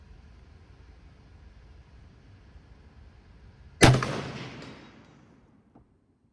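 A single sharp No. 5 Mk I rifle shot cracks out while the rifle is being sighted in, loud and close, then echoes away over about two seconds after a quiet stretch of faint background.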